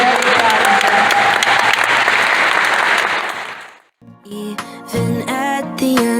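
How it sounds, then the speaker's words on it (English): An art exhibition audience applauds young artists with dense clapping for about four seconds that fades out, followed by music starting up. "give all these young artists a round of applause."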